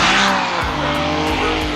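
Formula Drift cars, including a Nissan, race in tandem at Atlanta, engines roaring loud and close with tires squealing and screeching continuously, the revs rising and falling in waves.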